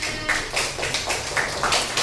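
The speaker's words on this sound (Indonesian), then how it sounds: "Terima kasih Ailani, tepuk tangan." A classroom of students claps for a classmate, a steady patter of many hands close by with rhythmic peaks, no talking over it.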